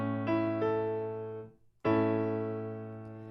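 A closed-position chord with a sixth between tenor and soprano, sounded as a sustained tonal chord on a keyboard-like instrument, struck, decaying, then struck again after a brief gap, alone without talk.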